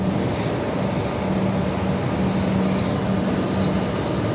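A suburban train pulls out of Southern Cross Station in Melbourne, heard as a steady, loud rumble and hum of rolling stock with faint higher squeals and a constant low drone throughout, no voices.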